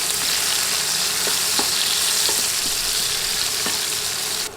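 Chopped onions fry in leftover oil with a loud, even sizzle, punctuated by soft scraping taps as they are stirred around the pan; no speech.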